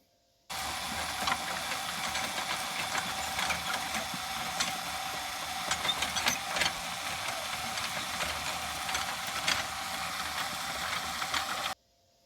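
A small garden tiller engine runs steadily throughout with rattling mechanical clatter, close and fairly loud, starting and stopping abruptly; no talking.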